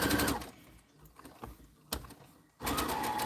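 Sewing machine stitching a stuffed teddy, running in two loud bursts at the start and end with a quieter pause and faint clicks between.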